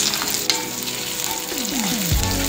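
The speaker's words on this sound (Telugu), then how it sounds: "ఆయిల్లో తాలింపు గింజలు, ఆనియన్స్, కరివేపాకు, అల్లం పేస్ట్, పసుపు వేసుకొని కలుపుకోవాలి" Mustard seeds, onions, curry leaves, ginger paste and turmeric sizzle and crackle steadily in hot oil, with a few scrapes of stirring close by.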